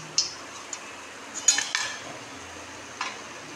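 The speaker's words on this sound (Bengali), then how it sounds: "এই যে সব আমি ভেজে ভেজে তুলে নিচ্ছি।" Chilli chops frying in a pan and being lifted out, with a few sharp metal clinks of a utensil against the pan over a faint sizzle, spaced irregularly and close by.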